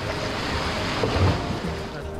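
Sea waves crash and wash against rocks along an island cliff, a steady loud surge of churning surf with wind buffeting the microphone and a brief heavier slap near the middle.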